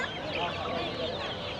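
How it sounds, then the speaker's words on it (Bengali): Many young chicks at a weekly poultry and bird market in Tongi, with busy, continuous high chirping and clucking from close by, dense and steady throughout with faint background chatter. "এগুলো সবই মুরগির বাচ্চা"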